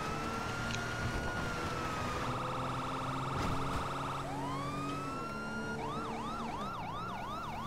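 A police car siren in GTA Online wails up and down, then switches to a fast yelping pattern, loud and continuous with a low engine rumble beneath.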